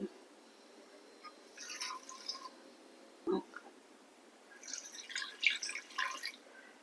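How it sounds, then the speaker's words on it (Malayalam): Water is poured into a pumpkin and lentil curry (mathanga parippu) in a pressure cooker, two short bursts of splashing and trickling separated by a quiet pause and a single knock. "ഇതിലേക്ക് പാകത്തിന് വെള്ളം ഒഴിച്ചു കൊടുക്കുക"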